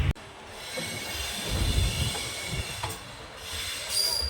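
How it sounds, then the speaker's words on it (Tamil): The Guruvayur Express rumbles past with a steady rolling roar, rattling wagons and brief wheel squeals, heard from a modest distance without talk. "குருவாயூர் எக்ஸ்பிரஸ்."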